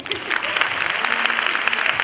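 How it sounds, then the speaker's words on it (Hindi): Audience applause at a church ladies' meeting, a dense steady patter of many hands clapping continuously with crowd noise mixed in. "अरे एक ताली बजाओ ना"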